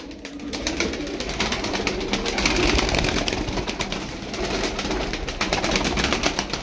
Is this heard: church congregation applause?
no